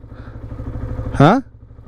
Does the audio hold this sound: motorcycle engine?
yes